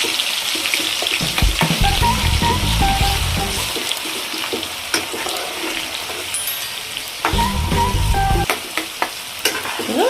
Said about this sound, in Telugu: అల్లం వెల్లిపాయ పేస్ట్ ముందు నూనెలో వేసినాక కొంచెం దోరగా యాగనిద్దాము.